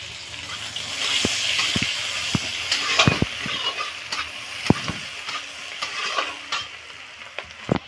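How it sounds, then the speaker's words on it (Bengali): Chopped onions fry in hot oil with cumin seeds, giving a steady, close sizzle. A spoon stirs them with intermittent knocks and scrapes against the pan. "পেঁয়াজগুলো লাল লাল করে ভাজা হয়ে গেছে"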